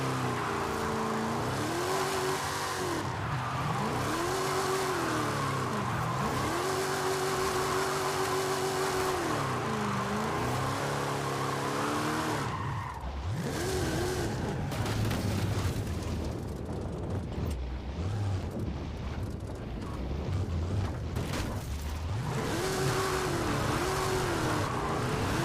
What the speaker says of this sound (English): let you guys enjoy the little bit of the car sound